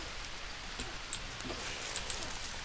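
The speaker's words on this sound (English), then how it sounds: "it's raining" Steady rain falls in the jungle survival game Green Hell, a soft even hiss with a few scattered drips and taps, fairly quiet and continuous with no talking.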